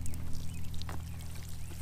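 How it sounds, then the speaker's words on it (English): Water pours from a squeezed bottle onto garden plant soil in a soft, steady splashing stream, close by over a low background hum. "You have to water it, honey."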